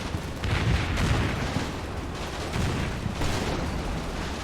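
Tank shell blasts and gunfire in a German-side war video game boom through a dense, rumbling barrage of repeated explosions, loud and continuous, with no voices.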